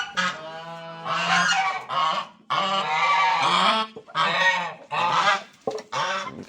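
Geese honk loudly and repeatedly nearby on a farm, several harsh, nasal calls in bursts with brief gaps between them.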